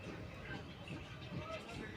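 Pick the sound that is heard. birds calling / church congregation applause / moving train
moving train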